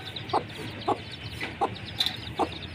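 Five short, evenly spaced chirps or clucks from young hen chicks stand out over a low, steady background hum, close and fairly soft.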